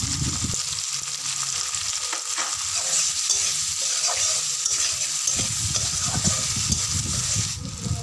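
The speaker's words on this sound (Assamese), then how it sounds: "এতিয়া মই নিমখ আৰু হালধিখিনি দি আকৌ অকণমান ফ্ৰাই কৰি ল'ম।" Potatoes and elephant apple fry in oil with salt and turmeric, a steady bright sizzle with bursts of stirring and scraping in the pan, close and continuous, with no voices.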